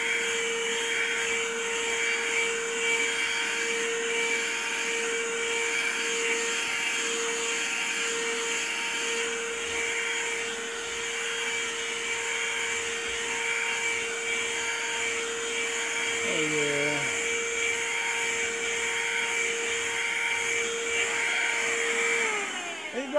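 An Amazon vacuum cleaner with a brush attachment drones steadily as it cleans carpet. The loud, constant motor whine runs throughout, and its pitch shifts briefly near the end.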